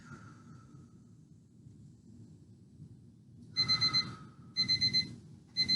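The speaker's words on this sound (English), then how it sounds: "I hope you can hear the timer. It's pretty loud" A loud workout timer alarm sounds in three beeping bursts, each a quick run of rapid electronic beeps separated by short pauses, over a quiet background hum.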